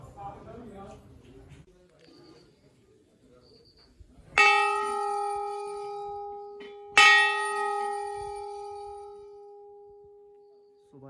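A metal temple bell at the Golu Devta temple is struck twice, each strike a bright ringing clang that lingers and slowly decays, following a stretch of quiet speech.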